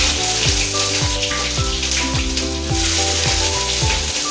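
Onions frying in hot oil in a wok, a dense, steady sizzle that fills the whole stretch at close range, with repeated clanking strokes of stirring at a regular pace and no voices.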